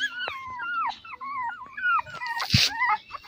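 Several young puppies of mixed breeds (Beagle, Shih Tzu and Golden Retriever) whimper and whine in rising, wavering cries, close by and overlapping, with a brief sharp bump midway and no talking.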